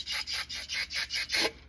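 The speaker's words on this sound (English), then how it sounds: "remedy for that, brake parts cleaner" Brake parts cleaner sprayed from an aerosol can during an oil change on a Lexus ES 350, heard as about seven short, hissing bursts in a quick, regular rhythm, close and fairly loud.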